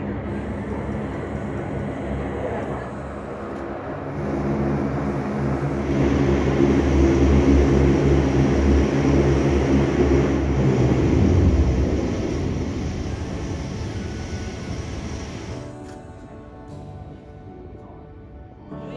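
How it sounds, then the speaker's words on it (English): A Loganair Saab 340 turboprop airliner arrives, its propeller engine roar swelling from moderate to loud over several seconds, holding, then easing off and fading toward a steady whine. "Soon the Saab 340 returned from the first flight of the day."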